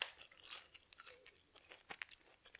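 Close, quiet crunching and chewing of a sugary McDonald's breakfast pastry, irregular crisp bites and mouth sounds at a soft whisper level with no talking.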